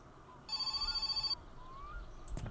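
An in-game telephone in My Summer Car rings in one short burst of rapid bell trills, fairly close, then stops, leaving quiet room tone and a sharp clatter near the end.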